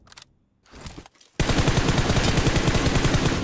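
Rapid automatic gunfire from PUBG Mobile, a dense sustained burst of loud shots that starts abruptly after a few quieter sounds and keeps going to the end.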